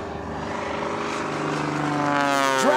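An aerobatic airplane powered by a Pratt & Whitney R985 radial engine roars steadily at an air show, its propeller drone loud and continuous with a pitch that climbs and shifts as it passes.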